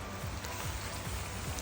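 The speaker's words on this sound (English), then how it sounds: "It rained literally all day." Rain falling outdoors on a damp October day at a rural garden in France: soft, faint, steady patter of drops with a few small low taps, no voices.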